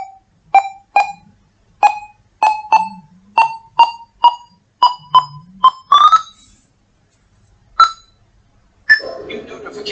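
A Firefox bug with the NVDA screen reader sets off a run of short, loud electronic beeps in an uneven rhythm, about a dozen in ten seconds with gaps between them, followed by a burst of noisier tone at the end.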